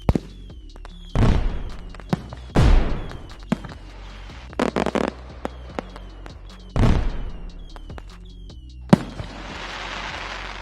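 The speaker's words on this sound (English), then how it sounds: "exploding fireworks." Fireworks explode in a handful of sharp, booming bursts spaced a few seconds apart, each trailing into crackle, followed by a steady hiss of sparkling near the end.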